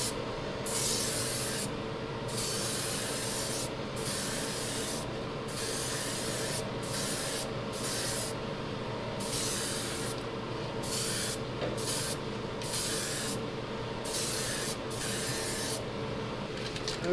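Bursts of spray paint hiss as a lime green coat goes onto a large Kyosho Outlaw Rampage Pro RC car body, several sprays of a second or more separated by brief pauses, close and steady.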